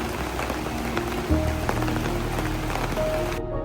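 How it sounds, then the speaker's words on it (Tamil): Rain beginning to fall near the waterfalls at Mamalakandam in Idukki during monsoon, a dense, steady hiss of drops hitting surfaces close by, continuous and fairly loud, with a brief low thump partway through. "இந்த வாட்டர் ஃபால்ஸ் எல்லாம் பார்த்து நிற்கும் போதே நல்ல போல் ஒரு மழை ஸ்டார்ட் ஆச்சு"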